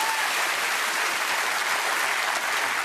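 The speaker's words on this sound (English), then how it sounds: "I will applaud that." Studio audience applause, a dense steady clapping from a large crowd filling the whole short stretch at even loudness.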